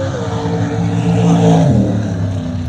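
Small-block Chevy drag car built like a 1928–29 Model A, roaring loud and close at an antique drag strip, engine note swelling to a peak and then easing as it passes.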